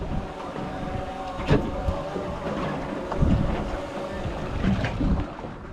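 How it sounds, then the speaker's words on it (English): Strong wind buffets and roars continuously at sea near Little Barrier Island, Auckland, with gusty rumbling and occasional thumps, no clear voices. "The wind was very high and it was very hard to manage to land the drone back safely"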